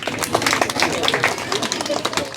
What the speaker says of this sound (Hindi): और भाई दादी के लिए ताली होना चाहिए भाई